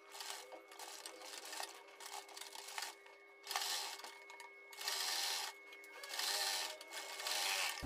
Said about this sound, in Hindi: पाइपिंग की गोलाई के बराबर बराबर सिलाई लगाकर इसको भी अटैच करना है